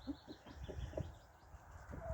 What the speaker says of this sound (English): Just stopped really to feed the chickens because they do enjoy scratching around in